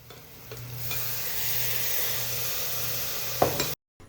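Chopped tomatoes dropped into ginger and garlic frying in a pan for a Kerala-style beef curry, followed by a steady close sizzle with a few stirring clinks and scrapes near the end, no talking.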